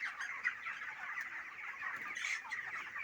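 Chickens in a poultry farm shed cluck and chatter continuously as a crowded flock, a steady mid-distance murmur of overlapping bird calls with no voices.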